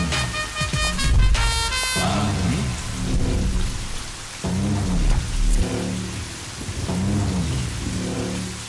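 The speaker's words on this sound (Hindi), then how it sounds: "इतना बारिश गिर रहा है, छतरी नहीं लाए हो का?" Heavy rain pours down steadily, a dense hiss with rumbles of thunder rolling underneath and swelling at intervals through a stormy night scene.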